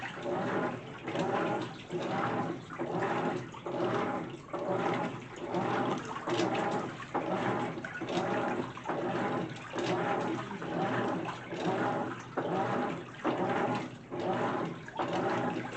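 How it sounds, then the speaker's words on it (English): A GE top-load washer on a normal cycle churns clothes with its agitator, giving rhythmic sloshing water strokes that repeat steadily about every second, moderately loud and without talk. "with the wash action this washer has, it is very fascinating to watch it do its action when it turns over the clothes"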